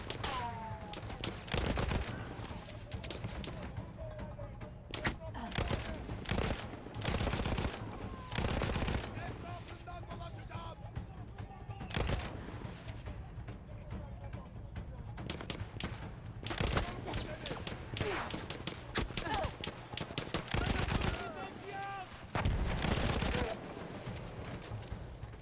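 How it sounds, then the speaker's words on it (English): Mortar blasts and gunfire in the Battlefield 1 battlefield: heavy booming impacts and bursts of shots recur through the scene, loud and close, mixed with background voices. "What was shooting? Oh crap, they got mortars."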